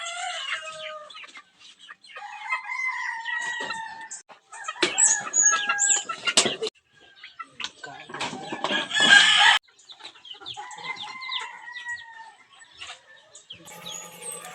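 Rhode Island cross native chickens cluck and crow outdoors, with repeated clucks and rooster calls, a few louder bursts among them, moderately close.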